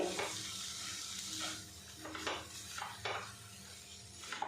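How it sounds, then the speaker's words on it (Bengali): Egg mince being tossed with spices in a pan, with repeated scraping strokes of a spoon against the metal and faint sizzling underneath, fairly quiet and close, with no talking. "মশলার সাথে কিমাটা একটু নাড়াচাড়া করে নেব"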